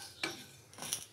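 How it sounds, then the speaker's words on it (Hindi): Metal spoon scraping and clinking in a cooking pan on a low flame while okra is cooked, two short stirring strokes about half a second apart, fairly quiet with no talking. "मुसलसल चमचा चलाना है।"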